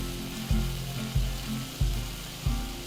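Steady, hissing sizzle of flat iron steak frying in a hot cast iron skillet, with faint rhythmic low thumps recurring about every half second underneath.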